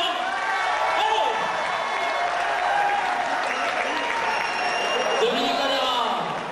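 Audience applause at a full contact boxing exhibition, sustained crowd clapping with some cheering throughout, while an announcer's voice carries faintly over it.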